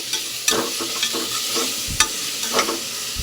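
Mint, curry leaves and coriander are stirred and sautéed in a pan for vegetable biryani, with a soft steady sizzle broken by several scraping clatters of the spoon against the vessel, close and alone.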